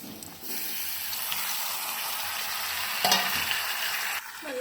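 Tomatoes added to a drumstick curry frying in a pan: a bright, steady sizzle that jumps as the pan fills, with a sharp crackle partway through and a brief stir near the end.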